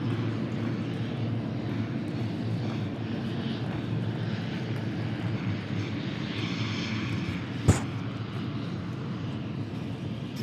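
An airplane lands at Dallas Love Field, heard as a continuous broad engine roar at moderate distance, with one brief sharp pop near the end.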